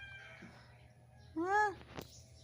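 A pet cat gives a single clear meow lasting about half a second, close and fairly loud, with a faint rustle and a soft bump after it against a quiet room.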